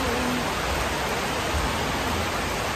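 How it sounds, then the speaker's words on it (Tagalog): A loud, steady roar of heavy rain pouring down without a break, dense and close, filling the whole soundscape. "grabe yung lakas ng ulan"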